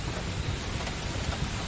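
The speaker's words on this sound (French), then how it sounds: "La pluie est arrivée" Cyclone rain arrives as a steady, dense broadband hiss with wind rumble underneath, loud and continuous without distinct drops.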